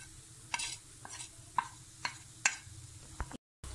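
Spoon stirring chili powder, garam masala, coriander and turmeric in a pan, a handful of separate scraping strokes with a faint sizzle beneath, close and fairly quiet.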